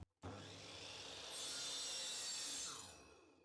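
Radial arm saw slicing through a wooden board: a motor whine starts abruptly, then a loud, dense, steady cutting roar swells over about three seconds before easing off, close by with no voices.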